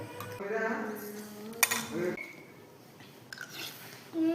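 Veg Maggi noodles being mixed in a pot, with close metal spoon scrapes and clinks against the pot in short bursts, under occasional quiet talk.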